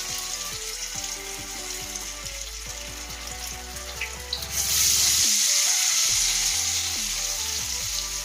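Chicken pakoda frying in hot oil in a pan on a gas stove; continuous sizzling that swells louder midway, with a faint clink or stir, no talk.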